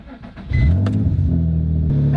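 A Nissan 350Z with a modified, louder exhaust cranks and fires up, settling into a deep, throaty idle right after a brief click and whir of the starter, loud and close.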